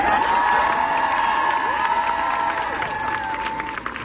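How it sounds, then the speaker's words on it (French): A crowd at a street rally in support of rape victims cheers and applauds for a named woman, a loud, sustained mix of clapping, whoops and shouting that fades slightly near the end. "Je vous demande de faire un tonnerre d'applaudissements pour Lola Lafont,"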